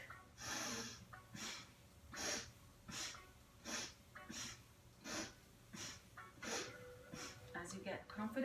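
Rapid yogic breathing in a kriya practice, rhythmic forceful inhales and exhales through the nose, about a dozen close breaths in an even pulse.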